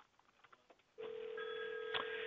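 A VoIP phone emits a steady electronic tone, one sustained pitch with a higher tone joining briefly, loud and continuous after about a second of quiet background noise, with a short burst near the end.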